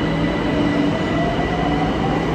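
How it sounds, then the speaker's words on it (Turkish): A subway train at Taleghani metro station in Tehran rumbles steadily and loudly, with a continuous grinding roar of wheels on rails and faint squealing tones, no speech. "Şimdi Talegani metro istasyonuna indik."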